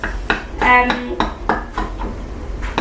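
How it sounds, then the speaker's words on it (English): A knife cutting into a thick, homemade healthy flapjack, with several sharp clinks and scrapes of metal against a dish or tray in an uneven rhythm, close and fairly loud. "So let's get a knife and see if we can cut into it"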